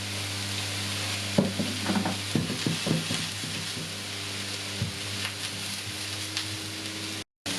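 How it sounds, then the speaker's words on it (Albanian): Chicken breast fillet cut into pieces frying in oil with mushrooms, a steady sizzle with intermittent clinks and scrapes of stirring, close by and continuous, with a brief dropout near the end. "Kërpullat janë duke u skuqur, filetua e pulës, gjoksi që kemi prerë në copa"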